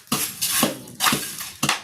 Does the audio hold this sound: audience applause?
no